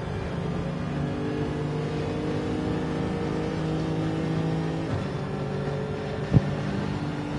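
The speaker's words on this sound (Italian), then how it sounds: "Sentiamo un attimo il motore di sta macchina." A Charger car engine in the Gran Turismo 7 racing game holds a steady, loud droning rev with layered harmonic tones, broken by a brief sharp knock toward the end.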